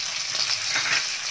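Lentils, curry leaves and chillies fry in hot oil for temple-style tamarind pulihora, giving a steady, close, loud sizzle with a dense crackling hiss that stays even throughout, with no voices.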